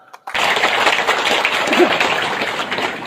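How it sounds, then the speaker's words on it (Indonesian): Audience applause breaks out after a short silence at a talk to an Indonesian crowd, a dense and fairly loud wash of many hands clapping that holds steady for about three seconds. "Tepuk tangan dulu."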